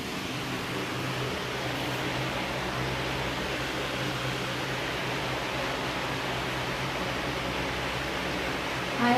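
An electric fan runs in a bedroom, a soft, steady airy whir with a low hum that stays even throughout, with no voices.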